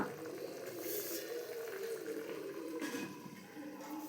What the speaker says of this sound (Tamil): நல்லா கொதிக்குது பார்த்திங்களா நல்லா அந்த பபுள்ஸ் வரணும்